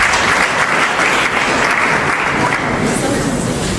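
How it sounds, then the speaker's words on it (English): A large crowd at a science slam innovation contest gives the professor a round of applause: loud, dense, continuous clapping filling the whole stretch, close and even throughout. "another round of applause to the professor"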